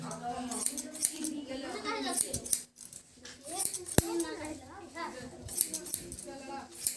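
Scissors snip children's hair at a village barber in repeated quick bursts of cutting, close and crisp, with a short pause partway through and people talking over the snipping.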